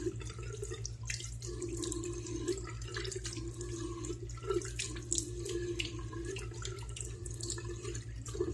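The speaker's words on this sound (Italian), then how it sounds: "Parlando avevo aperto l'acqua calda." Hot water running steadily from a bathroom tap into a sink, a continuous close splashing rush with small drips and clinks on top, alone without talk.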